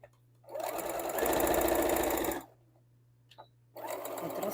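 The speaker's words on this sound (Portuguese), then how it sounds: "Então, vou costurar só no meio," A sewing machine stitches felt in short runs: a close, loud, fast mechanical chatter builds and holds for about two seconds, stops with a few small clicks, then starts again near the end, with no talking.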